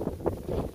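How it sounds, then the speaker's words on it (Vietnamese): Strong wind gusts buffet the microphone outdoors while a Batman kite is flown under an overcast sky turning to rain, giving an uneven low roar with a few louder puffs. "Gió quá trời gió luôn."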